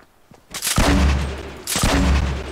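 Loud gunfire in a first-person shooter game, two heavy bursts of shots with booming low ends, the second following close after the first.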